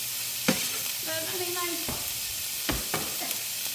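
Meat browning in a pan for a weeknight casserole, a steady close sizzle with a few sharp clanks and stirring scrapes breaking through.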